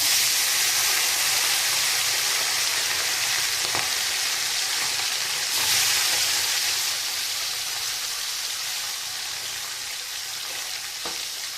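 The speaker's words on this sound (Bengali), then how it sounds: "মাছগুলো আমার হালকা করে ভাজা হয়ে গেছে" Loud, steady sizzling of small pomfret-like parshe fish, salted and turmeric-coated, frying in hot mustard oil, a dense continuous hiss with a few faint clicks, no voices.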